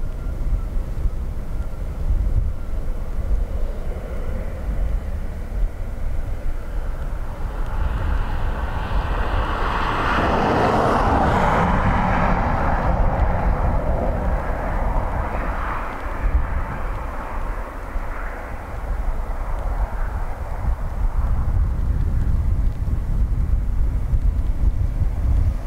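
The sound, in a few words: Emirates airliner landing and braking on Dublin Airport runway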